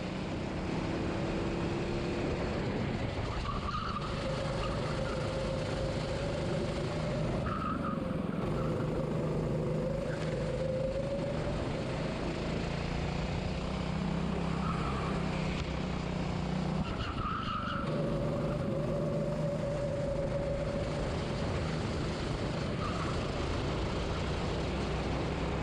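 A racing car at Herefordshire Raceway on its final lap, engine note rising and falling through gear changes with loud onboard roar and occasional tire skids, steady throughout.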